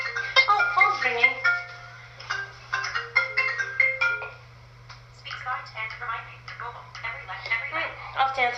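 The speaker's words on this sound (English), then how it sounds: "Oh, phone's ringing." A melodic phone ringtone chimes repeatedly in a bright, tinny pattern, fairly close, with a low steady hum underneath.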